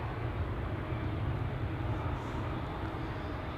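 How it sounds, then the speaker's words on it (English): Jet airliner passing overhead near the runways at Amsterdam Schiphol Airport, a dense steady low roar that holds loud and even throughout. "am hearing traffic passing by overhead"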